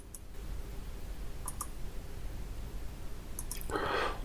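Mouse clicks on the Next button of a software installer, a few small sharp clicks against a quiet background hiss, with a short rustle at the end.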